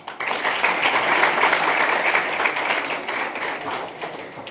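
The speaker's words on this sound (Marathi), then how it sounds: "त्याच्यासाठी एकदा टाळ्या" A crowd applauds steadily for several seconds, a dense wash of clapping that holds strong throughout and then fades slightly toward the end.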